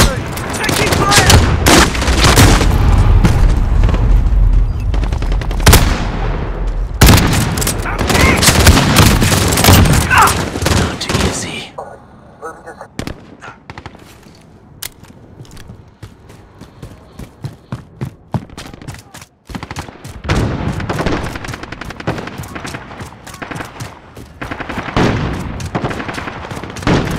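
Rapid gunfire from Call of Duty: Modern Warfare multiplayer gameplay, with loud dense bursts and volleys through the first half, a quieter, sparser stretch in the middle, then renewed heavy shooting toward the end, alongside occasional game voice callouts.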